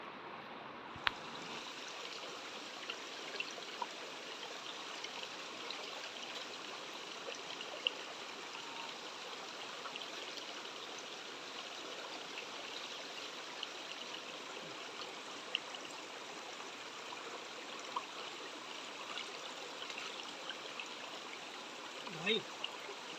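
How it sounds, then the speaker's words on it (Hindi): Flowing water in a mountain stream near a trail to Jivdhan Fort and Nane Ghat gives a steady, even rush that holds at the same level throughout, close by, with a few faint clicks and no clear speech. "ये बहता हुआ पानी है, पहाड़ों का पानी है"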